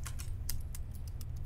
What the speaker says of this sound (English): Every key that I can to fucking figure out what this is.